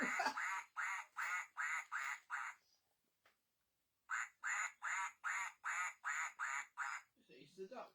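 A duck quacks in quick repeated bursts, two runs of about seven loud, evenly spaced quacks separated by a short silence, close and clear, with a brief rustle at the end.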